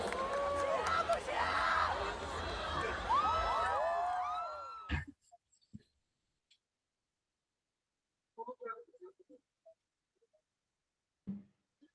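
A political rally crowd cheers and shouts for a federal deputy, a loud dense roar of yells and whoops that cuts off abruptly after about five seconds, leaving a few faint scattered sounds.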